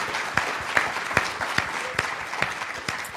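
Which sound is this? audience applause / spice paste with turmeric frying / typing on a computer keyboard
audience applause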